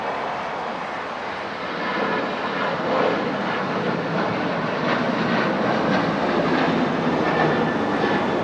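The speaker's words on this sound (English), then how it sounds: "That's American Flight 136. It's a 777." An American Airlines Boeing 777 at Dallas Fort Worth sends out a steady, broad jet engine roar that swells slightly partway through and holds loud and continuous, with no voices.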